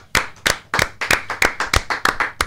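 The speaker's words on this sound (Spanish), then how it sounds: "Vamos a darle un aplauso" An audience claps steadily and rhythmically, with about ten distinct, sharp claps in quick succession that are close and fairly loud, and no talking.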